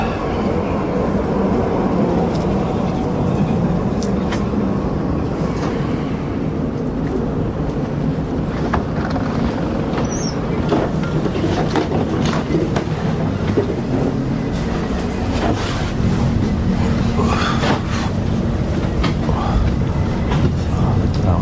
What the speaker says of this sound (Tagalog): So ito na yung train